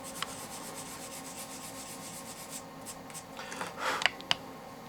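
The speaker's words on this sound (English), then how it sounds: "I'm using my low grit sanding tool just to remove most of the excess putty" Steady dry rubbing and scraping of a low grit sanding tool removing excess light-curing putty, continuous and close, with a few sharper scratchy strokes near the end.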